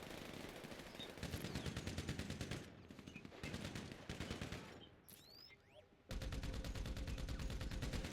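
Rapid machine gun fire in GTA Online, long automatic bursts with short gaps and a final sustained stretch, loud and close, with faint talk underneath.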